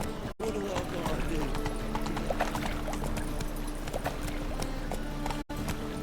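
Horse hooves clip-clopping at a steady running rhythm in The Witcher 3: Wild Hunt, close and continuous with a dense background of game ambience, while a voice speaks briefly over it.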